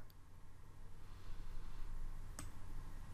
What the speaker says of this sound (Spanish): hacemos clic aquí, hacer clic para revelar